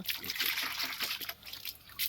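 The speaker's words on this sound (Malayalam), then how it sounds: "ഇതെന്തിനാ വെള്ളം ഒഴിച്ച് കഴുകണേ" Water trickles and splashes in a close, steady stream, sloshing as it pours, with faint voices in the background.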